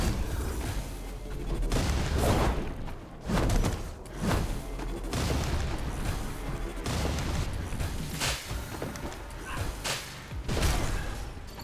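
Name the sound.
explosion in Ovis Loop video game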